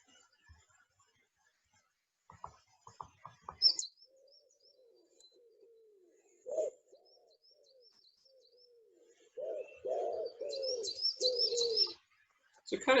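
Recorded birdsong of a pigeon or dove cooing, played back as soft, sparse calls with faint chirps between them, building to a longer stretch of low repeated coos near the end, with no voices.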